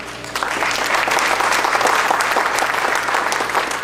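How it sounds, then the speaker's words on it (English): An audience at a South Florida gathering breaks into sustained applause, many hands clapping densely and steadily, swelling and then holding for several seconds. "A big round of applause for all of you."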